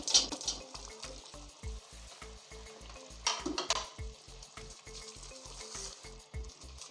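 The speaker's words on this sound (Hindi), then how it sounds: "चिकन को हमने फ्राई कर लिया है, अब हम ग्रेवी में शामिल कर देंगे।" Fried chicken pieces added to butter chicken gravy sizzle and fry loudly in the pan, with a steady pulsing crackle and occasional scraping stirs.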